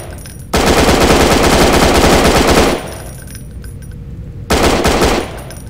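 Loud, sustained automatic machine-gun fire in a survival-horror shooter game, a dense rattling burst of about two seconds followed by a quieter pause and then a second shorter burst, with no voices over it.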